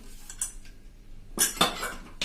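Metallic clinks and scraping of a pressure cooker lid being handled and opened close by over boiled peas and potatoes, a few quiet knocks followed by a louder rattling clatter.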